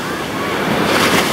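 Ocean surf rolls in at Waikiki beach, a loud, continuous wash of breaking waves mixed with wind buffeting the microphone, swelling toward the end.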